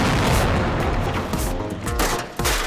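Explosions and heavy gunfire in a film trailer, a dense, loud, continuous barrage of booms and blasts with broadband roaring throughout.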